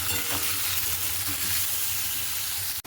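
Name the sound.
frying vegetables in a pan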